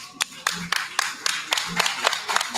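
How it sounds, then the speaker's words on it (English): Scattered applause rises from a small live-show audience at a hockey podcast's hundredth-episode taping, a handful of distinct, fairly close claps in an irregular rhythm, thin rather than roaring. "Big round of applause, everybody."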